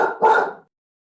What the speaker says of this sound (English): Got a dog walking by.